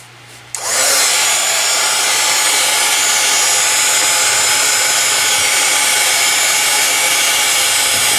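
Heat gun blowing over clear liquid clay on handmade Easter crosses: an abrupt switch-on followed by a loud, steady, close hiss of rushing air that holds without a break.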